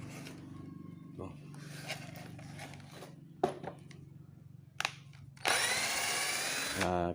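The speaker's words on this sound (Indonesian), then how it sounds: "kita lubangi dulu dengan bor" A cheap cordless drill with a wood bit spins up and bores a hole near the end, after a stretch of tool handling clatter and a brief spin-up earlier.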